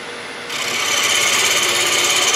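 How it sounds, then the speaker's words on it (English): A sharpening stone rubs against a woodworking cutter on a walking stick project, with a quiet start and then a steady, close, high-pitched grinding hiss. "I'm gonna go ahead and hit it with a sharpening stone."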